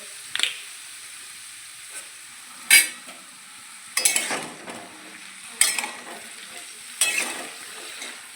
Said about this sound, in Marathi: हळद मिक्स करून घ्यायची चांगलं परतून घ्यायचं